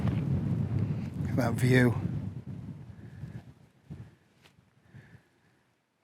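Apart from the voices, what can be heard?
breezy wind at a wild camping spot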